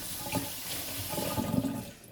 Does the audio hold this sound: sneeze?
no